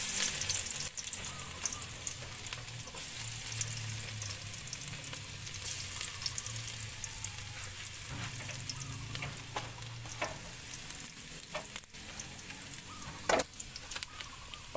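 Garlic frying in a pan as the base for a chicken lemongrass soup, a steady close sizzle running throughout with occasional light stirring scrapes and soft clicks.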